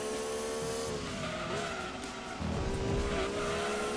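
A Renault Clio V6 slides through a hairpin corner in Gran Turismo 2, its tires squealing loudly and continuously over a high, buzzing engine note for about four seconds.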